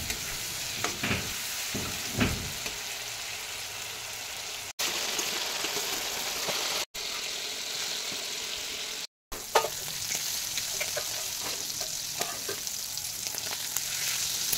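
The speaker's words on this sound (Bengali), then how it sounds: "দিয়ে ভালো করে নেড়ে চেড়ে ভেজে নিতে হবে" Shrimp sizzle and crackle loudly in a hot pan, with intermittent scraping of a spatula stirring, continuous throughout with a few short dropouts.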